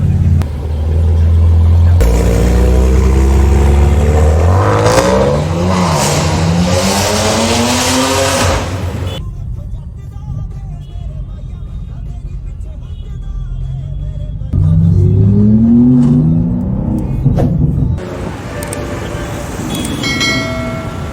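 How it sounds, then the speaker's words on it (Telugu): Loud BMW M2 with an aftermarket exhaust revving hard, rising and falling engine pitch in two bursts separated by a quieter idle, close and dominant, with faint voices in the background. "ఇదైతే ఘోరంగా లౌడ్ ఉంటుంది M2."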